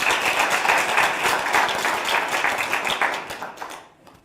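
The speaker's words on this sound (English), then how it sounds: "And I think you can give a big clap for that." An audience at an African Renaissance Unity meeting breaks into loud, close applause, many hands clapping in a dense, lively patter that holds steady before tapering away quickly at the end.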